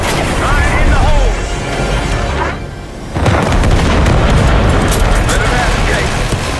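A grenade explodes in Call of Duty Black Ops 6 with a loud booming burst, followed by a brief lull and then heavy rumbling combat noise, while voices shout over the din.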